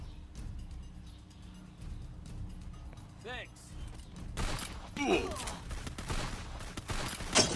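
Shotgun fire from the Free Fire battle game comes as a few fairly faint blasts in the latter half, mixed with other game effects while a player talks over them.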